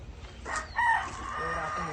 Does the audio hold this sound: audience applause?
no